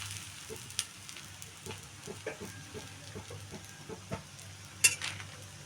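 Bread obbattu frying in oil on a hot pan, a soft low sizzle with scattered light taps and scrapes of a utensil, close and quiet, no talk.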